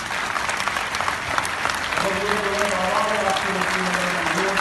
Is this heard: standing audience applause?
yes